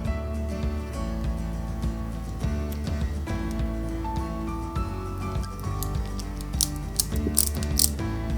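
A small screw is driven in beneath a part of a 1/8 scale Volvo Amazon 122s model, giving close, rapid ratcheting clicks from a hand screwdriver in an uneven rhythm throughout, with no speech.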